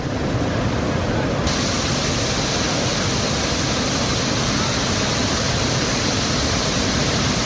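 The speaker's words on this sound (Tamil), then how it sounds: "பாலத்தின் மறுபுறம் தண்ணீர் அருவி போல பாய்ந்தோடியது" Floodwater gushes over a bridge like a waterfall during heavy rain near Rishikesh, a loud, dense, unbroken roar of rushing water filling the whole scene, with no talking.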